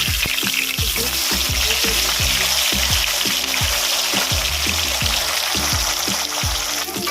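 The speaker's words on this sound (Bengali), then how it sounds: "যেহেতু এটা ভোলা মাছ নরম একদম তাই জন্য আমি দুটো দুটো করে ভেজে নিচ্ছি" Soft Bhola fish pieces fry in hot oil, two at a time, with a loud, close, continuous sizzle and crackle marked by regular sharp pops and spatters.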